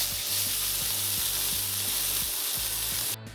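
Pepper steak sears in a hot pan, a loud, steady sizzle filling the whole stretch, with a faint low rhythmic thumping underneath and an abrupt drop near the end.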